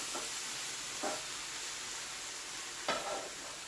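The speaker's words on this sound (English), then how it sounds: "Give that a good stir, and then we'll let it do its thing for a few minutes." Sizzling keto chicken with broccoli and spinach being stirred in a pan, a steady frying hiss with a few brief scraping stirs standing out.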